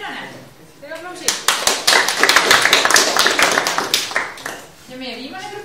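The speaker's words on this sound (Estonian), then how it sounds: "Teeme aplausi." Applause from an audience at an idea-presentation session on IT and medicine, a burst of dense clapping that swells for about three seconds and then fades, with talk murmuring before and after.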